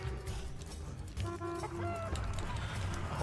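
Chickens cluck in a football video game, several short squawks rising over a dense, busy mix of game noise and rumble.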